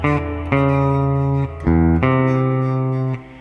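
A rhythm guitar part for a song, played alone as a few sustained, ringing chords that change roughly every second, clean and fairly loud with no talking.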